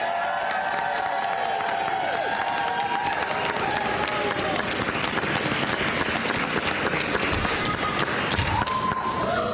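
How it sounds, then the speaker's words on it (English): A crowd applauds and cheers at a governor's signing of a millionaires tax bill, a dense, continuous roar of clapping with voices mixed in, steady and loud from start to finish. "Give a round of applause for everybody and their hard work on this legislation"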